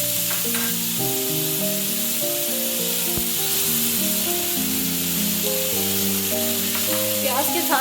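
Small onions sauté steadily in hot oil, a broad crackling hiss heard up close, with soft background music playing underneath.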